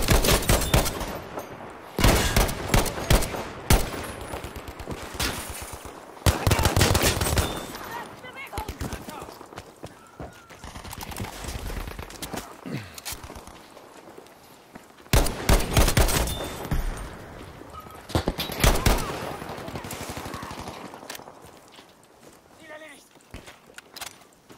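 Rapid gunfire from M1907 SF and G43 rifles rings out in the video game Frontlines, with loud sharp bursts and single shots repeating across a battlefield while voices call out between volleys.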